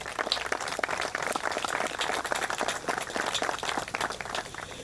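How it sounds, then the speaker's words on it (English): Audience applause at an outdoor water tower ribbon cutting ceremony in Eagle Pass, honoring waterworks employees, a steady wash of many hands clapping throughout at moderate level. "I ask for a round of applause for all of our Eagle Pass Waterworks System employees"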